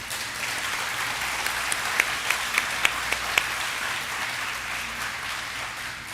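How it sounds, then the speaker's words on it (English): An audience at an elementary school awards ceremony gives steady applause, a continuous wash of many hands lasting several seconds, with a few sharper nearby claps standing out in the middle. "And we can give them a round of applause."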